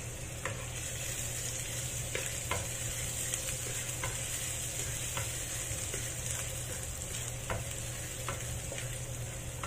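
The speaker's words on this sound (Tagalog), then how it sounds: "i-fry lang natin yan hanggang sa lumabas yung aroma ng garlic at saka ginger" Garlic and ginger fry in pork oil with a constant hissing sizzle, close and even, while a utensil stirs and clicks against the pan at an irregular pace throughout.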